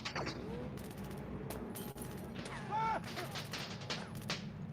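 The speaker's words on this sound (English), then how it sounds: "While there's gunshots heard from nearby." Gunfire crackles from nearby during a tabletop game session, with scattered shots of varying loudness and sharp bursts over a steady background hum, while muffled voices talk faintly underneath.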